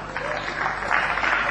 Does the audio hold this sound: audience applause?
yes